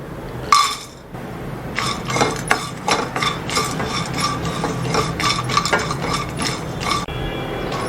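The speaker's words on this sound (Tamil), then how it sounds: "180 ml கப்பில் 1 கப்பு பட்டை எடுத்திருக்கேன். அதையும் இதில் வறுத்துக்கலாம்." Cinnamon sticks dry roasting in a pan for homemade mutton masala powder, heard as a steady run of light clinks and rattles as the hard bark pieces are stirred and tossed against the metal, close and fairly busy.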